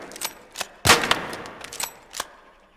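A rusty Renegade lever-action rifle chambered in medium ammo fires in Arc Raiders, a handful of sharp separate cracks spaced apart with one standout loud blast near the middle.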